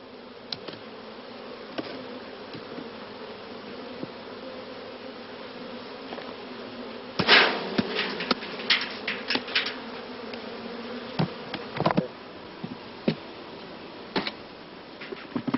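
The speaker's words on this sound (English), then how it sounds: "heavily infected colonies are dissolved and shaken into swarm boxes" Honey bees from heavily infested colonies drone steadily close by as they are shaken into swarm boxes, with sharp bumps and clatters breaking in midway.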